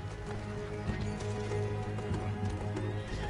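Horse hooves clip-clop steadily in the Red Dead Redemption 2 video game, a busy layered trot with occasional whinnies over a dense music and ambience bed, no speech.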